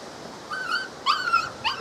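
Several high, thin puppy whimpers and yips in short bursts, fairly close, with brief pauses between calls and no talking.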